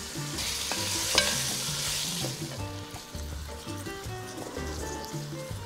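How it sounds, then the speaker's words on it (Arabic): Chunks of meat sautéing and being stirred in a pot with whole spices, cardamom, cinnamon sticks, bay leaves and black peppercorns, for a vegetable stew, a steady close sizzle with scraping stir strokes and no talk. "اللحم عندي تشوح وأخذ اللون اللي أنا عايزاه"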